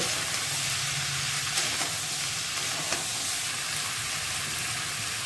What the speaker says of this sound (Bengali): এরপর সমস্ত সবজিগুলো ওই তেলের মধ্যে দিয়ে দেব খুঁটি দিয়ে নেড়ে চেড়ে নেব